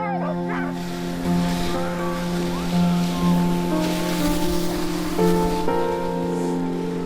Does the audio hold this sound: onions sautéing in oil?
no